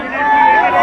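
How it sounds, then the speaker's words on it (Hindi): A crowd of devotees chanting Jai Shri Ram slogans at a temple, a brief, loud, dense swell of many voices shouting together up close. "यहाँ पर जय श्री राम के नारे लग रहे हैं"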